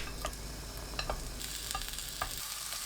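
Zucchini slices cook over medium-low heat in a preheated pan with a spoonful of cooking oil, giving a steady, soft sizzle with scattered light pops and clicks throughout. No one speaks.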